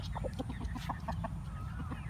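Chickens cluck in quick, soft bursts against a low, steady background hum, moderately faint and close by.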